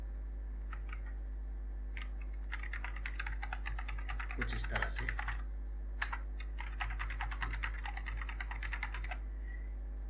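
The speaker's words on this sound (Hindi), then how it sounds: "अल्फ़ाबेट कीज़ के ऊपर ये नंबर कीज़ है, इनका इस्तेमाल आप नंबर लिखने के लिए कर सकते हो।" Someone types numbers on the number-key row above the letter keys of a computer keyboard, producing quick, close clicking keystrokes in bursts. Someone speaks briefly.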